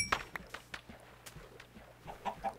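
Chicken clucking in Minecraft survival on a tropical island, a string of short, sharp clucks and little bursts spread unevenly over a quiet background, with a soft footstep-like tap or two.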